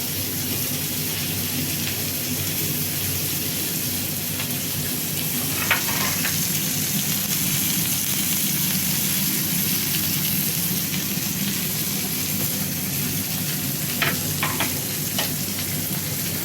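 Lamb sears in a hot pan with a loud, continuous sizzle and crackle that holds steady throughout, broken by a few sharper spits of fat.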